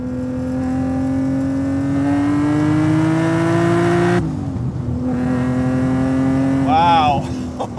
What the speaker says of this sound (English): this supercharger feels like it's pretty much perfectly matched for this engine and this power band